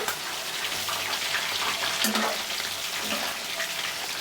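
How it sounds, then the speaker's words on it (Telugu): Prawn pakodas fry in hot oil filling a kadai, giving a continuous, dense crackling sizzle up close with small bubbling pops and no voices. "కడాయి నిండా కూర రొయ్యలను మనం వేసుకున్నాం కాబట్టి ఇప్పుడు కొంతసేపు అయితే ఫ్రై అవనిద్దాం"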